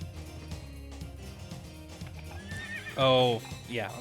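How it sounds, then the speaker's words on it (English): Horses in a room of a Castlevania video game: a loud, close neigh rings out near the end, followed by a second, softer whinny, over steady game music and clip-clopping hooves. "That's the room with the horses."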